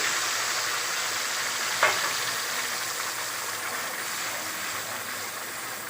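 Ginger and garlic hit hot oil for a chicken gravy and sizzle in a continuous, fairly loud hiss, with a brief sharper crackle near the start and no talk.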